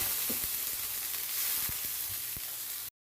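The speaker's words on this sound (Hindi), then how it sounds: "सबसे पहले इसमें लहसुन अदरक डालेंगे, उसको थोड़ा सा फ्राई करेंगे, उसका कच्चापन दूर करेंगे।" Garlic and ginger frying in desi ghee in a pan, a steady close sizzle with scattered crackles and pops throughout, ending abruptly, with no talking.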